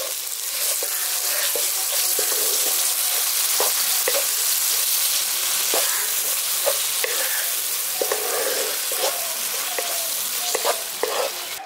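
Spice paste with ground mustard sizzles in hot oil in a pan, a steady frying hiss with repeated scraping stirs of a spatula, close and continuous, without talk.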